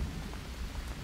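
Steady rain with a low thunder rumble in the jungle survival game Green Hell, a dense continuous wash with no voices.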